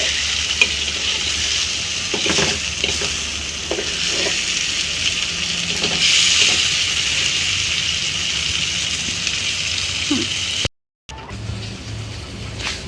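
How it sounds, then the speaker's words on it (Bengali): A Bengali loitta (Bombay duck) fish curry bubbles and hisses in an uncovered pan while a spoon stirs it, adding intermittent scrapes and taps. The sound cuts out briefly near the end. "এবার ঢাকাটা নামিয়ে আরেকবার একটু নেড়ে দিয়ে দেখুন হয়ে আসছে"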